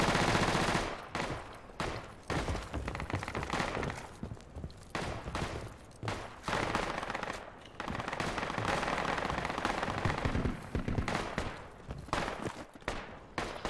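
Rapid MP5 and other gunfire from a Project Reality video game firefight, repeated bursts and volleys in loud clustered strings separated by short pauses, close and dominant.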